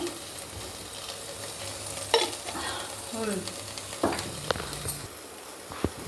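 Peanuts are roasted and stirred in a pan for a stuffed brinjal curry, giving a steady dry sizzle with intermittent scraping clicks of a spoon against the pan, close and moderately loud, with no talking.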